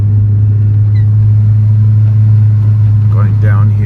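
Audi 8L S3 engine pulling steadily in second gear, a loud continuous low drone and rumble with no breaks, close and constant throughout.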